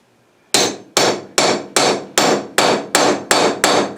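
Steady hammer blows driving U-joints into stub shafts for Dodge/Ram locking hubs, nine loud, sharp metallic strikes in an even rhythm with ringing decay after each hit, close up and with no talking.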